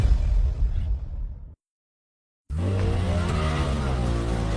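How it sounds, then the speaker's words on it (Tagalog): A car moving off on its own: a loud tire squeal and whoosh, an abrupt cut to silence, then a strong, steady engine drone as the car rolls on. "Bakit umandar ang kotse?"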